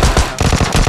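A short, loud burst of rapid gunfire in PUBG Mobile Lite: about six sharp shots in quick rhythm with a brief break after the second, very close.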